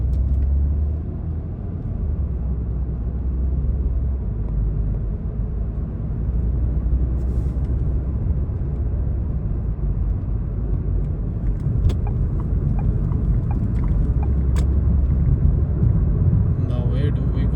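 Changan car driving through Riyadh city streets, a steady low engine and road rumble from inside the cabin throughout, with faint clicks and a few brief higher tones over the drone.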